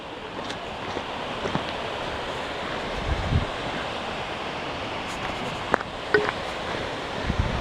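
A small mountain waterfall at Synevyr gives a steady, full rush of falling water throughout, with occasional gusts of wind buffeting the microphone and no talking.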